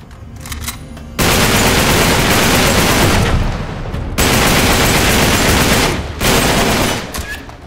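Enemy gunfire rattles in Uncharted 3, with long, dense bursts of automatic shots, loud and continuous, broken by brief pauses between volleys.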